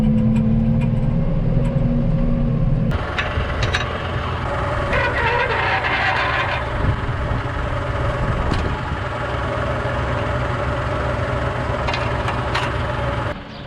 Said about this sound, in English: So we're gonna put this tractor on the pump.